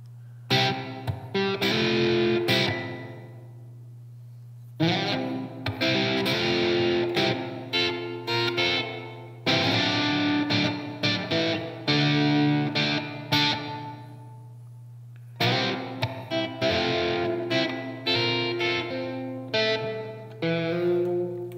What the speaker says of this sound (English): Yeah, the reverb's starting to wake up a little.